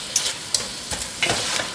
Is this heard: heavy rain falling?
no